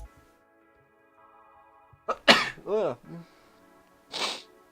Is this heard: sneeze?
yes